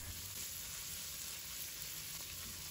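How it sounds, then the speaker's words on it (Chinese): Lean meat stir-frying in hot oil in a wok, giving a steady, even sizzle that holds for the whole stretch with no voices. "油热之后，把瘦肉放到锅里，快速翻炒，使肉变色"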